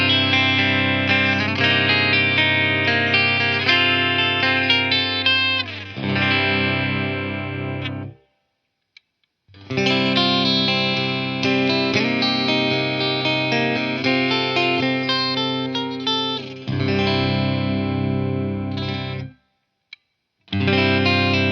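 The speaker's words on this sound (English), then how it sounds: "I'm just going to put it on the clean to see what it sounds like clean. Bridge pickup first." Clean electric guitar played through a Haven Omnia bridge pickup on the clean channel, ringing bright chords and picked notes with a chorus-like shimmer, in two loud phrases broken by short silences.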